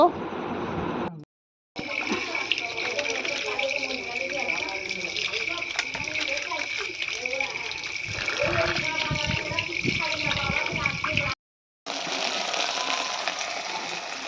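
Cut fish, khoyra ilish and rui pieces, washed under a running kitchen tap: a continuous gushing splash with two brief silent breaks, and faint voices partly underneath.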